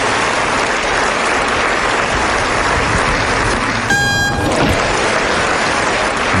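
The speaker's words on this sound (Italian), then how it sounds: "Doppio applauso." Crowd at a tennis tournament gives loud, sustained applause, with a brief horn-like tone cutting through midway while the clapping continues unbroken.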